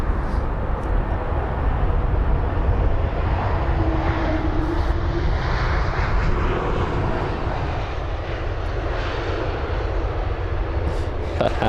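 Air France Airbus A220 jet passing at London Heathrow, a steady broad engine roar that swells and holds close by, fairly loud, with no talk over it.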